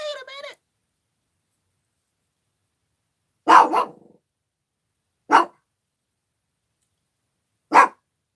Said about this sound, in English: And then Mocha starts barking.